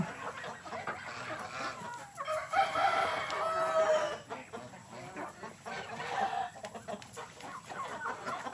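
Chickens cluck and scratch about in a yard while a rooster lets out a crow partway through, moderately near against a steady outdoor background hum.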